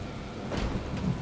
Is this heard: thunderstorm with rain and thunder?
yes